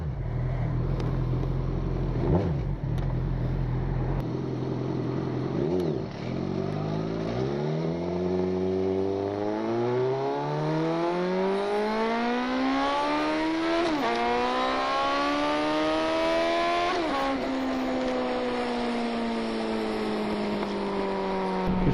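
A 2008 Suzuki GSX650F with an unbaffled Delkevic exhaust rides off and builds speed. Its loud engine note rises through several gears, with rev sweeps climbing and dropping between shifts.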